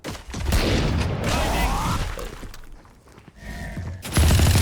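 Gunfire in the video game Valorant on the Haven map, loud bursts of rapid shots with a clattering crash, a brief lull, then another loud burst at the end.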